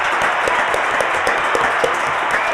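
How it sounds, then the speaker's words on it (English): Live audience at a foundation luncheon applauding, a dense, loud and steady burst of clapping from a room full of people, with faint voices mixed in. "Can I get a round of applause for that?"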